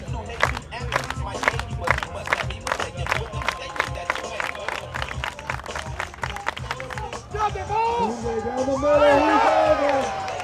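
A stadium crowd at a shot put series meet claps in a steady rhythmic beat as a shot putter urges them on, then breaks into rising cheers and whoops, with an announcer talking over it.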